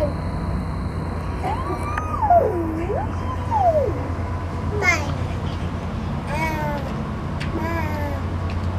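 A cat on a porch meows several times in drawn-out, rising and falling calls, spaced apart over steady low background hum, with a few shorter chirping meows near the end.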